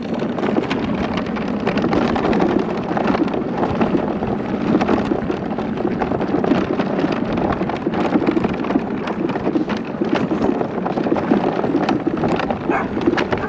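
A Segway Ninebot GoKart drives off-road across open countryside, giving a constant loud rumbling, rattling roar mixed with wind buffeting the microphone and no pauses.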